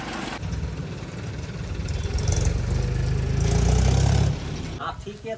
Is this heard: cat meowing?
no